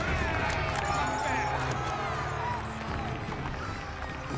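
A crowd cheers and shouts together in a dense, continuous roar with bits of excited voices for a scene in Game of Thrones Season 8 celebrating Euron Greyjoy, heard at moderate loudness throughout.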